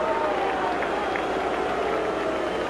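A stadium crowd at a 1979 New York Giants vs Los Angeles Rams football game keeps up a loud, steady roar with scattered applause, heard from a distance under a commentator's voice.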